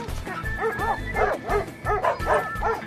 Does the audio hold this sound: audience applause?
no